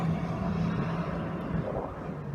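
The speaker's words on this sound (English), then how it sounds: "fire truck going by" A fire truck rolls past at moderate distance, its engine giving a low, steady rumble with a faint tonal hum. The rumble swells slightly and then eases as the truck moves on. No siren sounds and no one speaks.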